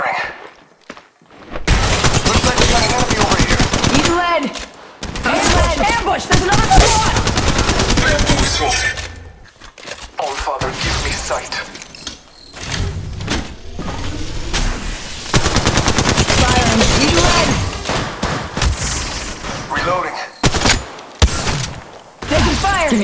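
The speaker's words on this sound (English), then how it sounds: "Under fire here." Automatic weapon fire in Apex Legends Mobile comes in loud rapid bursts broken by short silences, with game voice callouts mixed in between the volleys.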